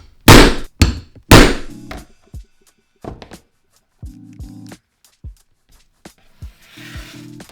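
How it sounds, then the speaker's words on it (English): A leather-working punch is hammered through leather to make holes for Chicago screws, giving several sharp, loud whacks at the start and then lighter, scattered taps and knocks with quiet gaps between them. "Next I'm going to punch the holes for the Chicago screws"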